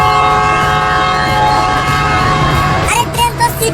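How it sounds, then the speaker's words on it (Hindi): A departing train sounds a long, loud, steady whistle that holds for about three seconds, followed by rattling rail clatter and brief bursts. "ट्रेन तो सीटी मार रही है"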